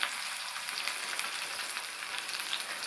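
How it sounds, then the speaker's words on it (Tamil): Brinjal pieces sautéing in oil for a Tamil ennai kathirikai kuzhambu, a steady, close, moderately loud sizzle of frying with faint crackles throughout and no voices. "கத்திரிக்காய் எண்ணெயிலேயே வதங்கி பாதி அளவுக்கு வெந்திருக்கு"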